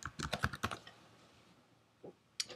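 Quick clattering keystrokes on a computer keyboard: a rapid burst of about half a dozen taps, then a pause and two more isolated key presses, close and quiet with no talk.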